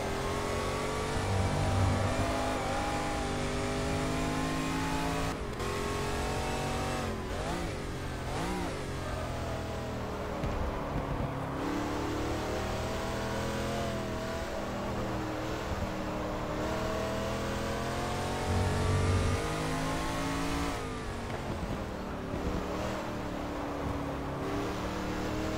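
De Tomaso Pantera race car in GT Legends at Spa-Francorchamps, its engine revving and climbing through repeated gear changes with rising and dropping pitch, loud and continuous with brief lifts between pulls.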